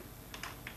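A few quick keystrokes on a computer keyboard enter the Ctrl Shift S shortcut, two or three soft, close clicks bunched together over faint background hiss.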